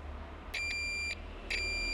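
Two short electronic beeps from a continuity tester in buzzer mode signalling a short circuit on an FPV drone build, a thin steady tone, the second starting about a second after the first, over a low background hum.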